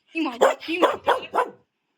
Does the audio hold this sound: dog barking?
yes